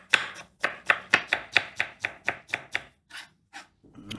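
A knife finely chops peeled shallots on a cutting board, a rapid run of about a dozen crisp, close taps followed by a few slower cuts.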